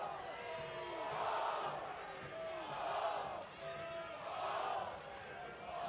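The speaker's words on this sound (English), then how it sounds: "Crowd are pumped up, chanting for their Seawolves" Rugby crowd at a Seattle Seawolves home game chanting for the team, swelling in rhythmic waves of massed voices from a distance, heard under close commentary.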